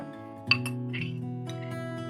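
Salad ingredients being mixed with oil in a bowl give a single clear clink near the start, followed by faint clicks and scrapes over a steady background hum.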